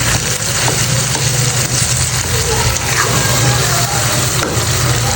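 Food frying in a pot while being stirred, a constant dense sizzle with scraping and rustling from the spoon, close and fairly loud, under occasional speech.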